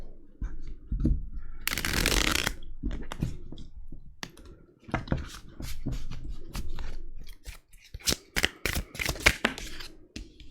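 A deck of oracle cards is shuffled by hand, a close burst of riffling followed by a run of sharp, irregular card taps and slaps, with no talking.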